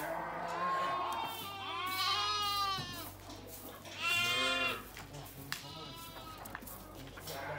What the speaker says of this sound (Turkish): Burada içerideki kuzular mı?